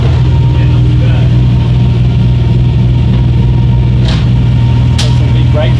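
A car engine runs at a loud, steady low idle, close by, with a couple of brief higher-pitched squeaks or clanks late on.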